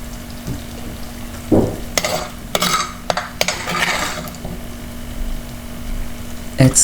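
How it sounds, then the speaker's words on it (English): A hot and spicy jackfruit core and seeds dish is scraped from a pan onto a serving plate, giving scattered metal clinks, scrapes and soft sizzling bursts close by with no talking. "I'm just transferring it to the serving plate."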